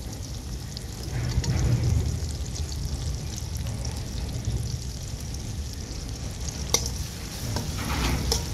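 Sliced carrots and green chillies fry in a mix of oil and ghee for chire polao, a continuous close sizzle with faint stirring and one sharp clink of a utensil.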